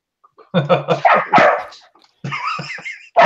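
A dog named Kimball barks and yips in short, loud, close bursts, a few quick barks then a pause and another run, with whimpery tones mixed in.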